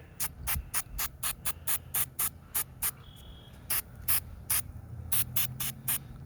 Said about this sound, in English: and then I'll spray